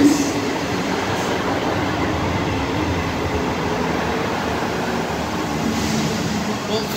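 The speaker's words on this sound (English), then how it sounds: "There's no point turning around because the 158's coming in now." A Class 158 diesel multiple unit pulls into Edinburgh Haymarket station with a steady, close rumble of wheels and engine that fills the whole stretch, with no clear pauses.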